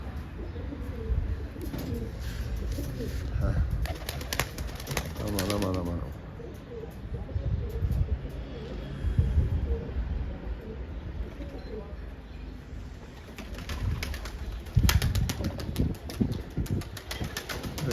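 Young Ankara tumbler pigeons coo and flap their wings in a loft, with bursts of wingbeats and soft cooing throughout, while someone talks over them.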